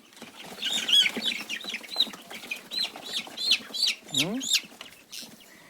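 Native village chickens cluck and chatter nearby in short repeated bursts, with a louder squawk near the end, over a quiet yard background.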